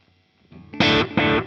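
Boss Katana guitar amp with its delay effect set to zero echo intensity: a loud distorted guitar chord rings out, followed by a single clear repeat of similar strength after a short gap, with no further echoes.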